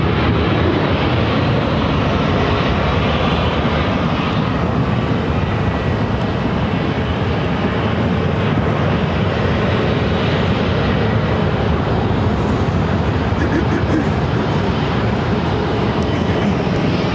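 A loud, continuous broadband roar of an airplane at Phoenix airport fills the whole stretch, steady and close, with no talking.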